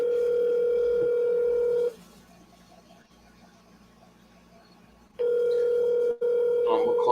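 A phone auto-dialer placing several calls at once produces a steady electronic call tone, which drops to near silence for a few seconds and then returns just as loud, with a brief dropout near the end.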